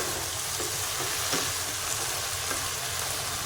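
Food frying in hot oil in a kadhai, a dense, steady crackling sizzle that stays loud and close throughout, with no talking.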